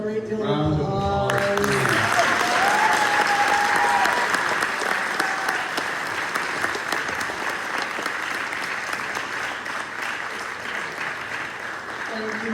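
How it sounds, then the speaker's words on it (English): After a brief spoken line, a debate-night audience breaks into loud, sustained applause for the participants, thick clapping that peaks early and then continues steadily to the end. "can we give them all a great deal of Round of applause?"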